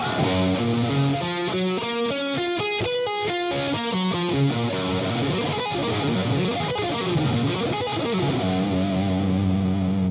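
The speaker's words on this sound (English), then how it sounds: "these are pretty cool arpeggios" A distorted electric guitar rips through rapid sweep-picked arpeggios in a neoclassical style, dense cascading note runs played continuously and loudly with effects, no talking.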